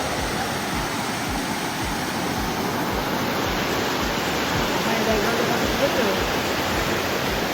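A forest waterfall at Daringbari, where a river runs between rocks, makes a constant, close, broadband rush of water that never lets up.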